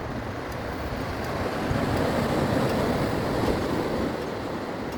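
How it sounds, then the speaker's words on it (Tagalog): Calm sea waves of the North Philippine Sea wash in a steady, rushing surf, heard close with gusts of wind buffeting the microphone and no one speaking. "Yan, kalmadong dagat ng North Philippine Sea."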